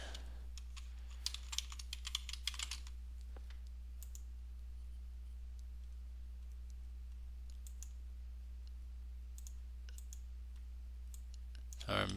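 Username being typed on a computer keyboard: a brief cluster of close, quiet key clicks near the start, then near-silence with a steady low hum, and a short burst of clicks at the very end.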